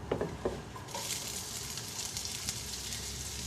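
Onions tipped into a hot pan while cooking wood pigeons start a steady, close sizzle right after a couple of soft knocks, the frying hiss holding on evenly to the end.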